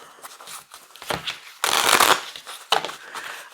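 A deck of cards being shuffled up close, with soft riffling and flapping that builds into a louder burst, then settles into quieter shuffles.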